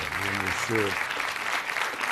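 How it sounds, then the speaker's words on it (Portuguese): Studio audience applause on a Portuguese television programme, a steady broadband wash of clapping throughout, with a voice speaking briefly over it near the start. "Está aqui um aplauso à Andrea, aquele aplauso que abraça"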